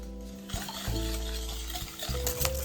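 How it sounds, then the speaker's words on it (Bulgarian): Sugar being stirred into a Valentine's dessert mixture in a bowl gives a soft, continuous scraping and swishing, faint beneath steady background music. "И разбърквам добре"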